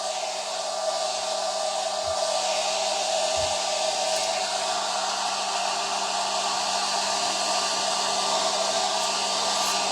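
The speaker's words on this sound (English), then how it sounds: "Giving it that head start on drying with my blow dryer here." A handheld blow dryer runs loud and steady close by, a constant whooshing roar without pauses while it dries paint on a homemade primitive honey pot decoration.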